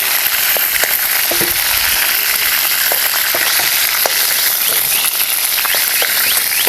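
Bitter gourd (karela) frying in oil in a pan, a steady loud sizzle with small crackles and pops throughout, no voices.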